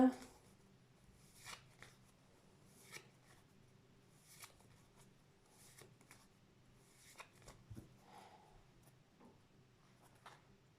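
A tarot deck being cut and shuffled, soft papery slides and taps recurring every second or so, faint and close beneath a quiet voice talking.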